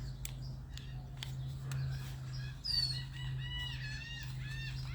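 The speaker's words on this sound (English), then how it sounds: "You can hear some of our native birds." Several birds call and chirp at moderate distance over a constant low hum, with warbling, rising notes and a few sharp chips.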